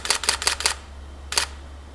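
A Nikon D600 shutter firing in continuous high mode gives a rapid burst of four crisp mechanical clacks, then a pause and one more, close and distinct over a faint low hum.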